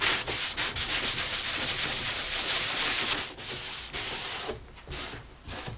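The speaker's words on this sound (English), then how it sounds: "And I'll do some sanding when it's dry." Wood veneer is sanded by hand in steady back-and-forth strokes, a close, dry, raspy rubbing with brief pauses between passes.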